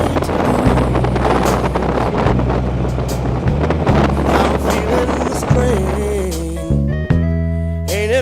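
Strong wind buffets the microphone as a motorcycle crosses a bridge, a loud continuous roar with steady low engine hum and a shifting tone near the end.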